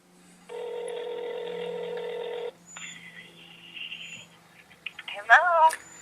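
A phone ringback tone on the Verizon network heard through a handset: one long electronic tone, then softer beeps, ending with faint chirpy noises.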